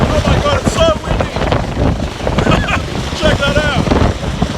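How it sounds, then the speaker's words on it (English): Strong rotor downwash from nearby helicopters batters the microphone with loud, rushing wind gusts, roaring and buffeting continuously, with faint excited voices mixed in. "It's getting really, really windy."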